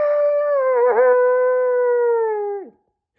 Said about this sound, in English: another creature from a corner started howling too